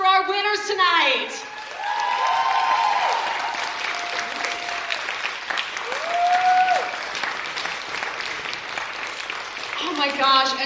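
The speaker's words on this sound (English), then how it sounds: "Let's have a final round of applause for our winners tonight." Loud, sustained applause from a poetry slam audience greets the winners at a 2024 annual slam event, rising and falling over ten seconds with cheering voices and speech mixed in at the start and end.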